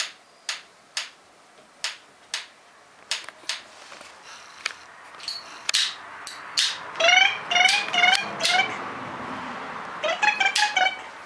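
A kitten gives a quick run of high, thin meows in the second half, after a series of sharp, evenly spaced ticking clicks.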